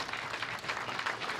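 Audience applause at a professional women's bowling tournament, a steady wash of many hands clapping that holds at an even level for the whole moment with no pauses.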